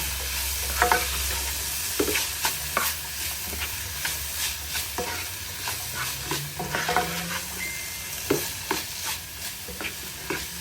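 Carrots frying with seasoning and salt in a pan for rice dodo, stirred with repeated scraping clicks over a steady sizzle, close and fairly loud.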